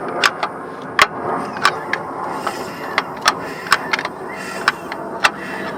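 A Honda K24 engine with its oil pan off, rotated by hand at the flex plate, gives a series of sharp, short clicks and hisses at irregular intervals over a faint background, fairly close.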